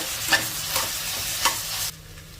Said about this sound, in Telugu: ఇది పచ్చి వాసన పోయే వరకు ఈ వెజిటబుల్ ముక్కలతో పాటు ఫ్రై చేసేసుకోవాలి